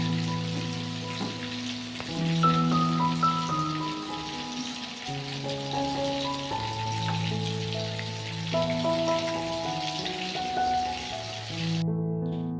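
A cornstarch-thickened sauce simmers and is stirred in a pan, giving a steady soft sizzle that runs continuously beneath louder background music.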